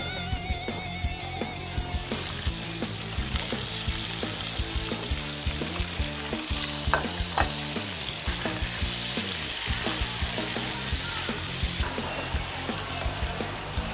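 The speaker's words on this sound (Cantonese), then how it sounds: "加啲油、薑葱起一起鑊，炒香啲牛肉先" Beef is stir-fried in a wok with oil, ginger and scallions, making a loud, continuous sizzle that runs throughout. Frequent rhythmic scrapes and clanks from the stirring tool against the wok are heard, with no one speaking.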